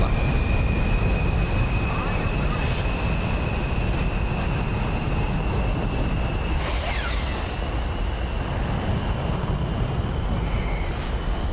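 F-16C jet in War Thunder air realistic battle, a steady loud engine roar with a whining high tone, constant and close throughout.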